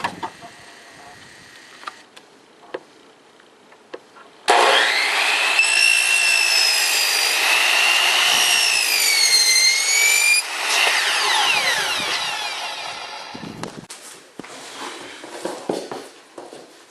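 Power saw cutting a laminate flooring plank in a bedroom: a loud, high whining cut starts abruptly and runs for several seconds with shifting pitch, then winds down, with quieter handling noises before and after.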